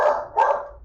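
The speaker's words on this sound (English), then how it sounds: "Sorry about the dog." A dog barks nearby, two loud yelping barks about half a second apart, in a home kitchen during a live yarn-dyeing session.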